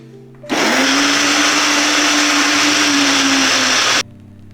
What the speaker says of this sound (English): So then we're gonna go ahead and just blend everything together.